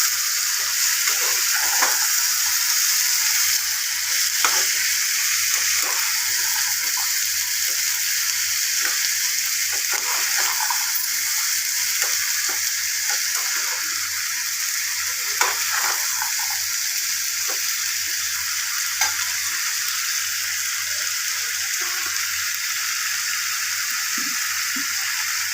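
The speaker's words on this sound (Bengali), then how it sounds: "মটরগুলো ঢেলে দিলাম, সেদ্ধ মটর দেখালাম তো আমি আপনাদের, ঢেলে দিলাম, ঢেলে দিয়ে রান্না করতে লাগলাম" Boiled peas fry in a pan for a Nepali Gorkha chutney, giving a steady, close sizzle with scattered crackles and occasional stirring scrapes throughout, with no talking.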